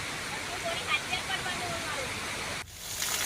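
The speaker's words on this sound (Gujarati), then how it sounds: "અરવલ્લીમાં ઘણા ધોધ સક્રિય થયા છે" A steady, dense rush of a monsoon-swollen Aravalli waterfall roars close by, with a faint voice underneath, briefly cut off near the end before resuming.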